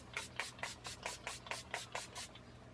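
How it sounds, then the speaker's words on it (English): NYX primer sprayed onto a face in about nine quick, even hissing bursts, close to the microphone and alone in a quiet room. "I'm gonna start off by spraying my NYX First Brace Primer"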